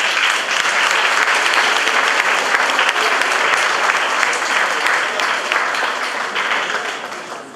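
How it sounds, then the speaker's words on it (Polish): Sustained, loud applause from an audience at a Polish high school studniówka ball, steady dense clapping throughout, tapering slightly toward the end. "Wielkie brawa!"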